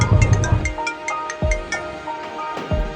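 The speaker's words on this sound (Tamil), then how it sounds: "அச்சோ யாரோ ஃபோன் பண்ணுறாங்களே, யாருன்னு பார்ப்போம்." A phone ringtone sounds for an incoming call in a Tamil horror short film, a loud melodic electronic tone repeating in short bursts over about three seconds, with no voices.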